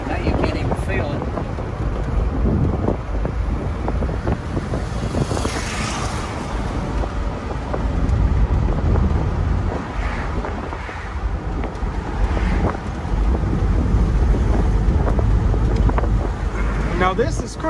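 A 1963 Cadillac Eldorado Biarritz convertible cruising on a summer drive, with constant loud wind buffeting and road rumble that swells and eases throughout, and people talking faintly underneath.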